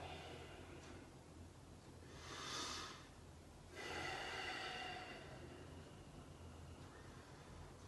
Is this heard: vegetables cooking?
no